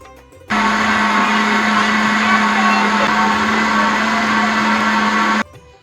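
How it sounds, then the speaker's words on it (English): A blender motor whirs steadily at high speed for about five seconds, blending butter chicken sauce, loud and close, starting and stopping abruptly with no talking. "you can transfer into your blender"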